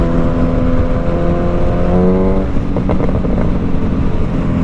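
A 2024 25th-anniversary Suzuki Hayabusa motorcycle engine, loud and close while riding, its pitch climbing through the revs, then dropping with a gear change.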